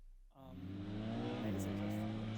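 BMW R 1300 GS motorcycle engine and exhaust starting up after a brief quiet moment, then settling into a steady, fairly quiet hum with a low, smooth tone, while someone talks over it.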